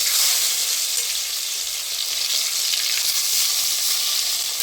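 Crushed onion, ginger and garlic sizzle steadily in a hot pan for a fish curry, a loud, even hiss that carries on alone throughout.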